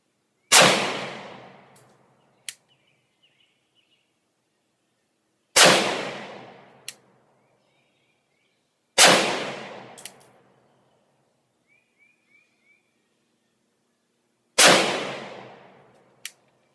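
An FN Five-seveN 5.7 pistol fires four loud, sharp shots spaced several seconds apart, each followed by a ringing decay and a quick metallic click, with faint brass tinkles in between.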